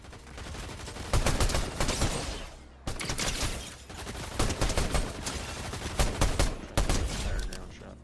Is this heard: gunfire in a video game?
yes